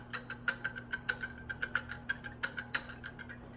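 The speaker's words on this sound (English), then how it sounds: "So I'm going to whisk this for about" A whisk beats a dessert coating mixture in a bowl, giving a steady run of close, rapid, evenly spaced ticking strokes over a constant low hum.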